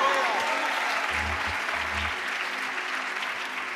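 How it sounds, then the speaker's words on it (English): A church congregation claps together at a healing service, the dense, steady applause of many hands filling the space, with low rumbling thumps underneath and no distinct voices standing out. "let's clap our hands and praise the Lord"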